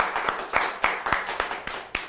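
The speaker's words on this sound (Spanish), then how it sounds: "con un aplauso hay que recibirla" A few hands clapping in a studio to welcome a young guest on a Spanish-language show, sparse sharp claps in a loose rhythm, close and moderately loud, about eight distinct beats.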